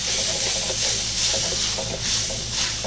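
A shrimp stir-fry with vegetables and ramen noodles hisses and sizzles as it is stirred in the pan, with soft scraping and rubbing swells recurring every second or so, close by and without talk.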